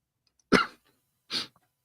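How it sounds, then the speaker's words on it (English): Two short, dry coughs from a person sound close in an otherwise quiet room, spaced nearly a second apart, the first sharper and the second slightly softer. "I apologize for occasionally coughing"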